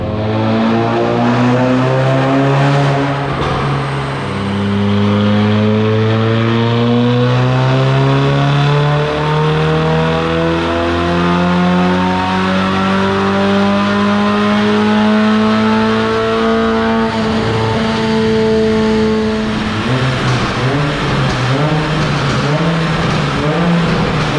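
A tuned car engine accelerating hard on a logged remap test run: continuous loud revving climbs steadily in pitch through the gears, with brief drops at each shift and a final surge near the end.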